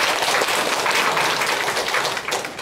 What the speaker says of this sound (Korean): 우리 이병철 지사한테 박수 한번 보내주시죠.